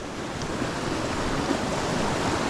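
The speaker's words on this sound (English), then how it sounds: "Now we do our water crossing." Continuous rushing water fills the clip, a broad steady wash of flowing stream noise, close and fairly loud, with no voices.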